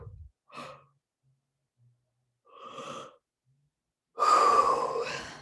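Three deep breaths, each a slow audible inhale or exhale separated by silence, the last one louder and longer with a breathy, sighing rush.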